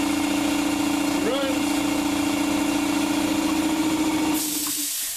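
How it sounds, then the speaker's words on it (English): A shop air compressor with a newly installed pressure switch runs steadily with a loud, constant mechanical hum and pumping drone, a brief chirp near the start, then cuts off with a hiss near the end. "We're going to fire it up, see if it's running, make sure it does what it's supposed to do."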